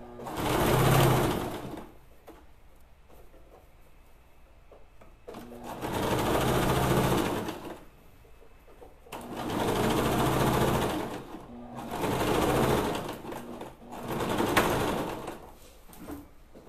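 A sewing machine stitching around the edge of a project runs in four loud bursts of rapid mechanical whirring, separated by quieter pauses with faint handling sounds.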